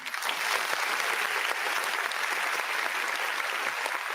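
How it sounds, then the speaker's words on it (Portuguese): Steady applause from a small team in a web radio sports broadcast booth during a Portuguesa versus Guarani football match, a continuous even patter of hands that holds through the whole stretch with no talk. "Para você, o aplauso dessa equipe da Web Rádio Gringo"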